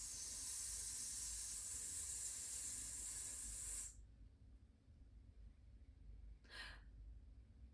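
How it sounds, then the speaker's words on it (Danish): A singer's slow exhalation during a breathing exercise: a long, steady hissing breath of about four seconds that cuts off into near silence, then one short, faint puff of breath. "puster ud"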